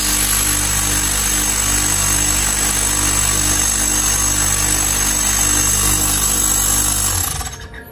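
A split air conditioner compressor runs after an oil change with a loud, steady mechanical hum and buzz, unbroken for about seven seconds before it winds down abruptly at the end.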